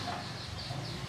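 Chickens in a rural Flores mountain village cluck under a steady low hum, soft and fairly close, with no talk over them.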